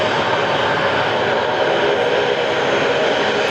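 A Rex Saab turboprop moving at Sydney Airport gives a loud, steady, broadband engine roar that holds evenly throughout without breaks.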